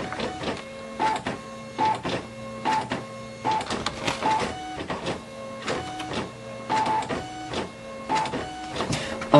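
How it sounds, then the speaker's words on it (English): Printer in poor condition printing out a page, a close, busy mechanical chatter of repeated clicks and rattling carriage passes in a steady rhythm, with no talk. "So it should now print out the page."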